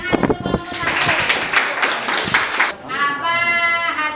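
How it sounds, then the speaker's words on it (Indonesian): A classroom group claps for the first team after its presentation, with a short burst of brisk, dense hand-clapping mixed with voices and chatter throughout. "kasih tepuk tangan untuk kelompok 1"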